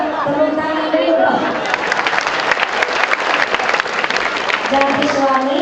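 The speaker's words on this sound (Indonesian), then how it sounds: "Mantap, tepuk tangan dulu." Crowd applause at a school student event in Indonesia, steady loud clapping throughout with some cheering and background voices mixed in.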